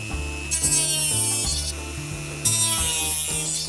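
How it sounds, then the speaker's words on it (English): A hard plastic Tamiya Jeep Wrangler YJ body is cut to remove its bumper. Two rasping cutting strokes, each about a second long, sit over steady background music. "I cut away the bumper from the body."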